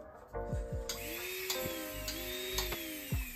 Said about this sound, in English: So this is your pendant drill, emery on a coil.